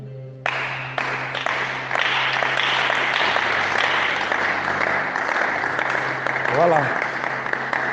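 A church congregation claps and applauds for God, a dense continuous burst of clapping that starts abruptly and holds steady, with a preacher's voice briefly heard over it.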